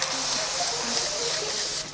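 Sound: setting spray sprayed on face after makeup

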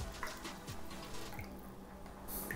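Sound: pouring brandy and cola into a glass

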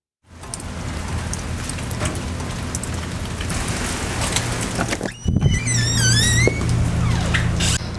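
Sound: rain falling outside the shop

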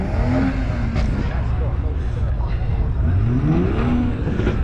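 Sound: tuned car engines revving at Tunerfest, Brands Hatch

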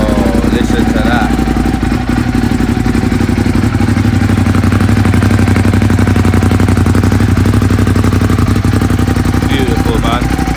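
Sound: Yamaha R1 motorcycle engine running on stock exhaust

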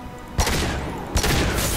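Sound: sniper rifle shot in the video game Mass Effect 2

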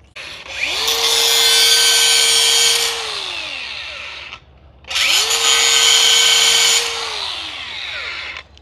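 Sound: DeWalt grinder cutting

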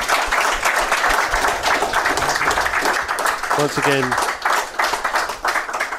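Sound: applause

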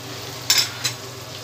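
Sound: onions frying with garam masala in pan

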